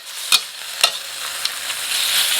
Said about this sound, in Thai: ก็ผัดไปเรื่อยๆนะครับ ก็ผัดแบบแห้งๆน้ำไม่ต้องใส่